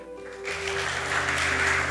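A church congregation breaks into loud, dense applause after a brief quiet moment, and the clapping holds steady to the end over a faint hum.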